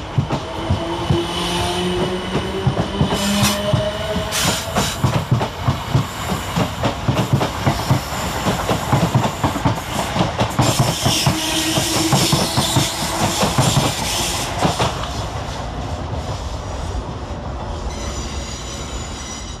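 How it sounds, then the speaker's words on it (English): Two coupled South Western Railway Class 455 electric units working a Guildford to London Waterloo service at Clapham Junction, passing close with continuous loud rumble, rhythmic wheel clatter over joints and intermittent high squeals. "455712 and 455728 with the 1846 South Western Railway service from Guildford to London Waterloo"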